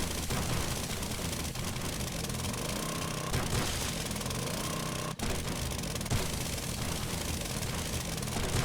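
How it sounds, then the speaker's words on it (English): An auger in the video game 7 Days to Die grinds away in a dense, continuous, loud roar that holds steady throughout with only a brief dip. "I love how quickly the auger does"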